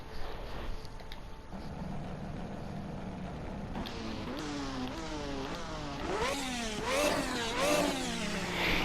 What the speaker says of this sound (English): Yeah, I don't rev this car as often as I do the other one, because this thing is really loud